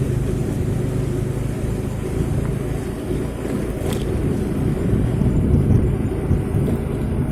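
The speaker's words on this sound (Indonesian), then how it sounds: "Seperti truk-truk seperti ini besar." A large, heavily loaded truck hauling excavated fill rumbles past on a broken, unrepaired residential road, a steady loud low roar with wind buffeting throughout and no voices.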